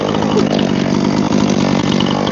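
A chainsaw cuts steadily through a massive firewood log round outdoors, the engine roaring loud and close without a break for the whole stretch.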